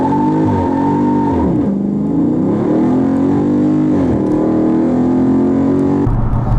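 A Dodge Charger Scat Pack on Nitto 555 G2 summer tires has its throttle floored into a burnout, the engine roaring loud and close with rising and falling revs and a sustained howl, no talking.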